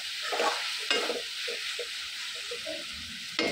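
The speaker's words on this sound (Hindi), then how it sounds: "मसाला हमारा इस तरीके से भून चुका है और ऑयल अभी साइड से छोड़ने लगा है" Masala spice paste frying in hot oil while being stirred, a steady close sizzle with scraping stir strokes every second or so.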